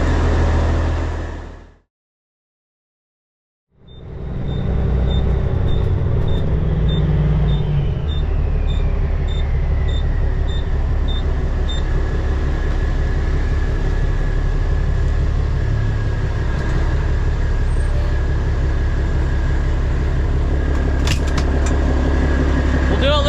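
A truck engine with loud exhaust pipes idles with a heavy, steady rumble, cuts out briefly, then restarts and holds a constant drone.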